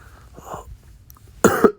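A person under the weather with a cough, sinus trouble and mucus gives a couple of short, harsh coughs near the microphone after a stretch of quiet breathing.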